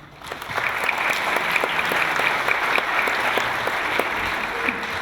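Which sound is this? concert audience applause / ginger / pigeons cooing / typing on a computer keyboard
concert audience applause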